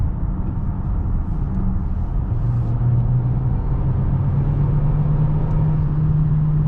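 A 2021 Mercedes GLA SUV with electric motor assist accelerating on the road, heard from inside as a loud steady engine drone whose pitch climbs gradually over road rumble, with no talking.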